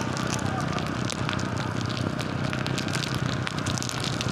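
Steady rain falls around a rider on a motorcycle, a dense even hiss and patter under wind noise, with a voice talking in the background.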